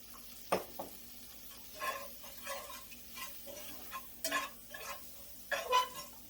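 Flour being stirred into a hot pan of fish gravy, faint scattered scrapes and clicks of a utensil against the pan with quiet gaps between strokes.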